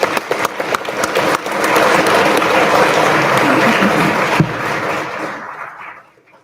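A crowd applauds graduating cadets at an academy graduation ceremony: a few scattered claps swell into loud, dense, sustained applause that holds for several seconds before tapering off and falling to silence.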